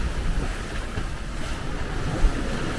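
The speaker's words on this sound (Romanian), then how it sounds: "Chiar mă încântă să văd barca ține cu bine la valuri dintre astea." Sea waves wash steadily against a sailing boat battling rough water toward Santa Ponça, a continuous loud rush of water and wind noise with a brief slap near the end, no voices.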